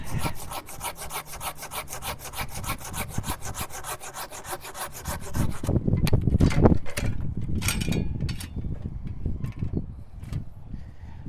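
A dead tree branch is cut by hand with a saw, producing a fast, rhythmic back-and-forth rasp of close, steady strokes. These break into slower, heavier irregular cuts and cracks partway through.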